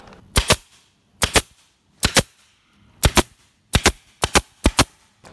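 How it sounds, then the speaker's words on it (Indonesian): A compressor-fed pneumatic nail gun drives nails in a furniture workshop, firing about eleven sharp, close cracks, mostly in quick pairs and triplets, with quiet gaps between them. "Lalu masukkan isi paku ke tembakannya. Terus habis itu pasin lubang yang mau ditembak."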